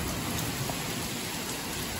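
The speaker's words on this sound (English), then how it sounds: "Stronger winds, stronger rain." Strong rain with gusting wind at 5 a.m., a steady dense hiss of downpour with no let-up, close and moderately loud, with no voices.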